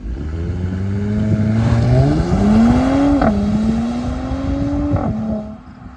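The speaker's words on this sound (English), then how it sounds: "For a 6-cylinder engine, this car has some exhaust sounds that just sound phenomenal." A 2020 Mercedes-Benz C43 AMG with its six-cylinder engine revs from outside, a loud, close exhaust note rising in pitch in stages with brief pops between pulls, then easing off at the end.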